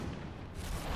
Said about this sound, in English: It just exploded.